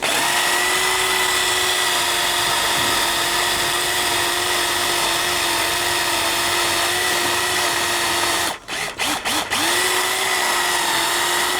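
A power drill bores into a scrap car with a steady, loud motor whine that holds for about eight seconds, then stutters through a few quick stops and restarts before running on again.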